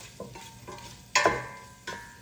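Sausage cooking in a pot for red beans and rice, a quiet sizzle with soft scraping stirs and a few louder clattering strokes against the pot, close and without talk.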